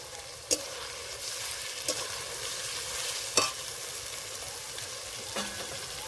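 Ground cumin and dried red chili paste sizzle and fry in a hot pan for a Bengali jackfruit chicken curry, a steady close hiss broken by a few sharp clinks of a stirring spoon against the pan.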